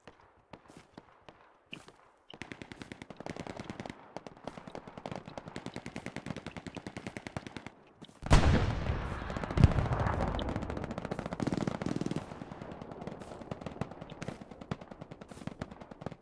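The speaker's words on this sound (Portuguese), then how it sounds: "Ouvindo muito tiro ali, tá ligado?" Machine gun fire in the WWII video game Hell Let Loose, rapid distant bursts ticking steadily, then a loud close volley with heavy impacts before fading back to far-off shooting.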